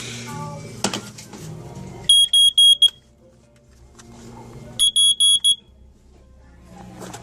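A smoke detector sounds in two separate loud bursts of rapid, shrill electronic beeps, with quieter handling noises and faint murmuring between them.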